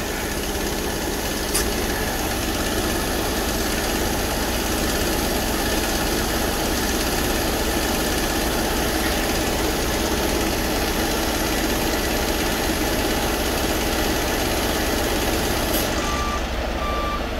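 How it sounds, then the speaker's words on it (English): A pump runs steadily on a fuel tanker fitted with an overfill protection system, a continuous mechanical drone with engine-like rumble holding at an even, fairly loud level throughout, with a faint beeping tone near the end. "if you want to put the pump back on again"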